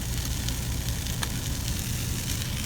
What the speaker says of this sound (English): You can hear it sizzling away already.